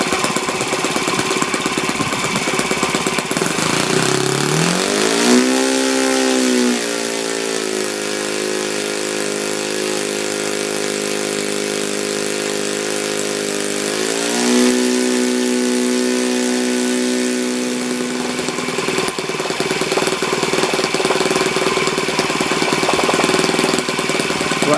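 An Enya 46 four-stroke model aircraft glow engine running on 12% nitro fuel with a 13x6 propeller and a four-stroke glow plug, a loud steady buzzing drone that dips in pitch twice and recovers, with no talk.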